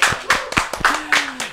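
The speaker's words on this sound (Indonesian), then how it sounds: "Tepuk tangan dulu, mana suara tepuk tangan ini?" A few people at a school student-council podcast clap their hands in a short, uneven burst of about half a dozen close, crisp claps, with a faint voice under them.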